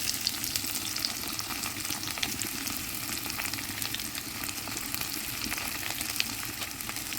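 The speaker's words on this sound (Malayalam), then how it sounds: "നമുക്കിതൊന്ന് വഴറ്റിയെടുക്കാം" Shallots sautéing in a hot pan for Kerala chickpea curry, a steady dense sizzle of frying that continues evenly throughout with no talking.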